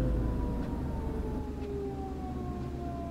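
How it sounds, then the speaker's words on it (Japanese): A police car siren wails steadily from behind a moving car, heard from inside, its pitch slowly falling as it sounds continuously over low road rumble. "パトカーが後ろから来てるんでちょっと逃げますわ。"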